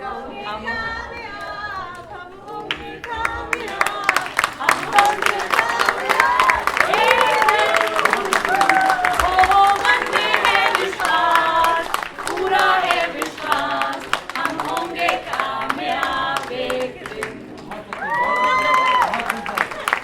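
An audience claps after a stage play, a Hindi natak titled Hum Honge Kamyab. The clapping is dense and sustained, and loud voices talk over it for most of the stretch.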